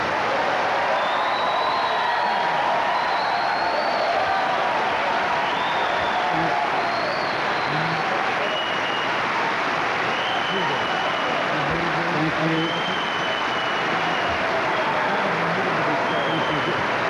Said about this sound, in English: loud applaud in the hall for both final statements